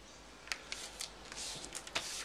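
Paper is folded in half and creased into panels for a craft project, with soft crisp rustles and a few sharp creasing snaps up close, quiet overall.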